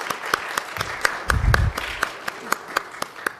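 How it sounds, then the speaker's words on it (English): A congregation at an interfaith mental illness gathering applauds to welcome visiting clergy speakers. Crisp, evenly spaced claps sound close by, with a brief low thump partway through and no speech. "So let's welcome them with some applause."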